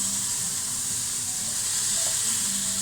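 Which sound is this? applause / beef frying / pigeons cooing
beef frying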